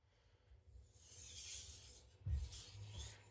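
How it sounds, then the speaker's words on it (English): A knife edge drawn lightly across a 1000 grit whetstone, a faint, soft scraping stroke that swells and fades, followed by a brief sharper swipe, close and quiet, without talking. "Now I like to do the entire edge, just kissing the stone."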